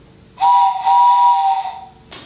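A person imitates a steam train whistle with the voice, a breathy whistle in two connected hoots, loud and close, with a short hiss at the end.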